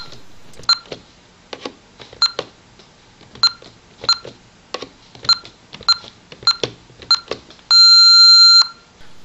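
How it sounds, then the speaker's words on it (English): A string of short beeps from a Vista 20P alarm keypad at an irregular pace, followed by one loud sustained electronic error tone lasting over a second at the end. "Oh no, the dreaded long beep."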